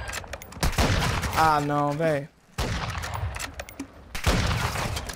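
Rapid bursts of gunfire in a first-person shooter video game, loud and clustered, with someone talking over parts of the shooting.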